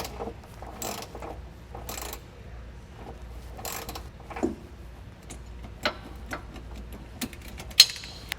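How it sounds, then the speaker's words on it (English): A ratchet wrench with a shallow socket tightens a bolt while installing a Timbren suspension enhancement system on a trailer, giving scattered quiet clicks and short bursts of ratcheting, with a sharper click near the end. "And then we can go ahead and tighten this down all the way once it's in place."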